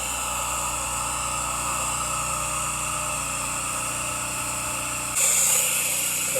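A pressure washer engine drones steadily and fairly loud while a house is rinsed with sodium hypochlorite, a continuous engine hum that rises slightly in the last second or so.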